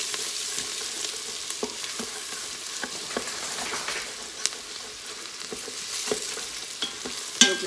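Chicken and onions sizzle on the sauté setting in an Instant Pot, a constant close hiss and crackle punctuated by scraping stirs and clicks from a utensil, with no talking.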